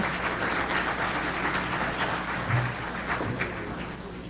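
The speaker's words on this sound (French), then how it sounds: "je vous invite à applaudir les panélistes que nous avons aujourd'hui." Audience applause for the panelists at a conference on the armed forces of Haiti, a steady wash of clapping at moderate level with a low hum beneath and no talk over it.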